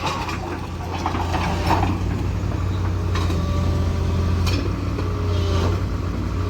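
A vehicle's engine is revved gently while reversing during a tire-burning session, a steady low hum with mild swells, fairly close and without talk.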